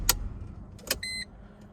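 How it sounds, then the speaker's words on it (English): A Mercedes-Benz car is switched off: sharp clicks, then a brief electronic chime tone lasting a fraction of a second, close and quiet in a still cabin. "Now we're going to turn the car off."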